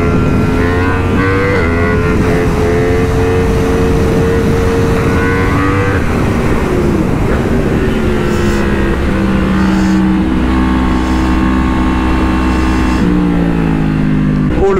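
BMW M4 accelerating and revving, a loud, close engine roar with rising and falling pitch as it climbs through gears, sustained throughout with no talk.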